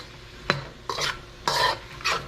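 Spice is stirred into green beans and tofu frying in a pan: four scraping, sizzling stirring strokes in quick succession, close and clear, with a light hiss beneath.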